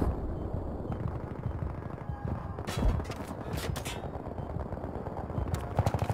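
Gunfire in the military shooter Battlefield 3: scattered shots and short bursts crackle over a dense, rumbling battlefield, moderately distant and fairly quiet, with no talking.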